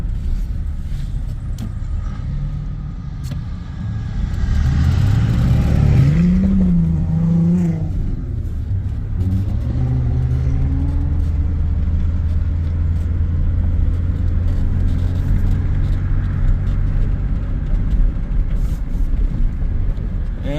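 A 1996 Chevrolet S10 pickup's 4.3 engine with a Holley Sniper fuel injection idles steadily and close by, giving a low continuous rumble with a brief rise in revs partway through before settling back to a smooth idle.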